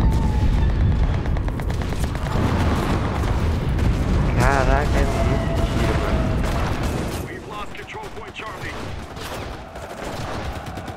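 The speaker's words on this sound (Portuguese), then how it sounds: "Tiro, mano. Tiro, tiro," Gunfire in a video game, with rapid bursts of shots and booms sounding close and loud, then fading into a quieter stretch of scattered distant shots and game noise.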